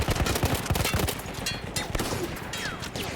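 A mounted gun captured from Austro-Hungarian troops fires rapid continuous bursts in Battlefield 1, loud and close, with sharp repeated cracks and distant shots layered behind.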